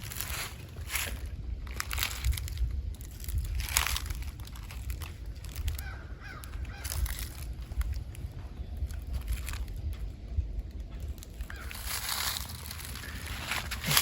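Footsteps crunching through dry leaves on the ground during a midday whitetail bow hunt, slow scattered crackling steps close by against a quiet outdoor background, with no talking.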